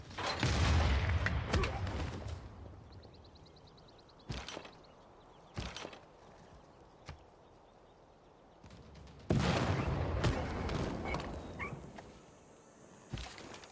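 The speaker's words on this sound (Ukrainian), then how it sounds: "Зараз арта. Бабух." Artillery firing in Civilization V: several heavy, booming blasts spaced a few seconds apart, some loud and long-rumbling, others shorter, with quiet gaps between.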